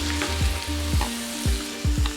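Cauliflower and vegetables fry in a pan while being stirred, giving a steady close sizzle broken by four or five scraping strokes of the spoon at roughly half-second intervals.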